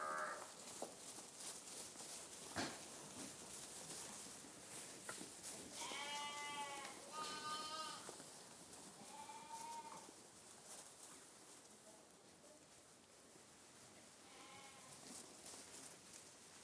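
A sick ewe bleats several times in a quiet pasture, moderately close, with breathy wavering calls spaced several seconds apart over faint background rustle.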